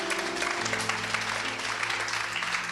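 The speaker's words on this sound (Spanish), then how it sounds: "Denle un aplauso al Señor." A church congregation applauds during a Spanish-language sermon, a steady wash of clapping that fills the space, with organ or keyboard tones held underneath throughout.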